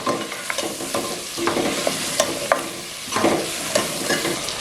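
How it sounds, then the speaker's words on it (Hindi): Sliced green chillies frying with mutton in a pot, a constant sizzle broken by repeated stirring scrapes and spoon knocks at an uneven pace, close and clear. "और अब हम इसको इसके साथ भी भून लेंगे।"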